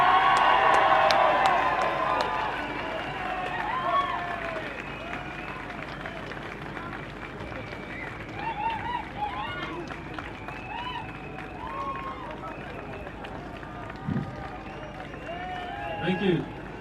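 A crowd at an antiwar mass assembly applauds and cheers, loudest at the start and then fading to scattered claps and murmurs, with someone speaking over it.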